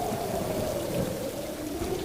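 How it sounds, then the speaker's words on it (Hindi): Heavy rain pours steadily with wind and a low rolling rumble of thunder, a dense, continuous stormy wash with no voices. "तेज बारिश और हवा की आवाज आती है"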